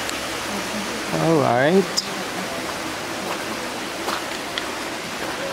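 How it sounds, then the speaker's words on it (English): A waterfall in Queen Sirikit Botanic Garden, Chiang Mai, gives a steady, loud broadband rush throughout, while a person briefly speaks over it. "Oh, there is a waterfall."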